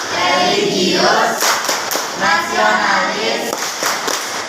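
A class of students does the rhythmic Tepuk PPK clap routine at school, fast hand claps running throughout, close and loud, mixed with children's voices chanting along.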